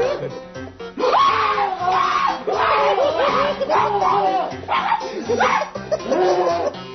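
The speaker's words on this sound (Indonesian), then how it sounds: "pria yang berteriak itu mengeluarkan suara seperti jeritan seorang perempuan" A man frightened by a prank screams in a high, woman-like pitch, letting out a string of loud, wavering shrieks and wails with brief gaps between them.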